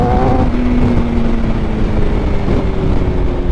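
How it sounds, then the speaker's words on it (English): A 2024 Suzuki GSX-R750 fitted with a full titanium M4 exhaust runs loud and close, its engine holding a steady throaty drone with a rising rev note midway and rumbling low-end throughout. "this bike sounds amazing, man. It does have the full titanium M4 exhaust on it."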